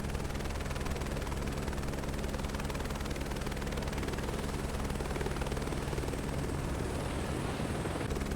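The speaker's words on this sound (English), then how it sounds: "So I'm just using my eyes to follow the helicopter." A helicopter's rotor chops steadily and loudly throughout in Microsoft Flight Simulator 2024, a dense unbroken thrum with engine whine, with no voices over it.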